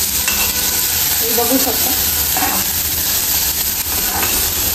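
Ginger frying in hot oil as a tadka tempering for a healthy soup, with a steady close sizzle and stirring scrapes throughout and a brief spoken phrase.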